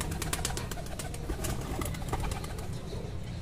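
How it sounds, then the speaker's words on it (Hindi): Pigeons at close range cooing and shuffling, soft rhythmic bird sounds over a steady background hum. "कबूतर को पकड़ते हैं इधर जी।"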